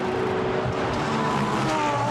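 McLaren GT race car at the Ascari chicane at Monza during an endurance race, a continuous loud engine roar with a rising and shifting pitch as it passes through the corner, steady and close throughout.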